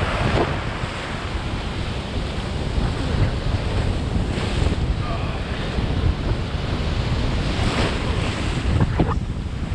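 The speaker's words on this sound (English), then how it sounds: "Today we're in the sea, freezing cold. wavy." Cold, choppy sea waves wash steadily with wind buffeting the microphone, a continuous loud roar of surf and gusts with no talk.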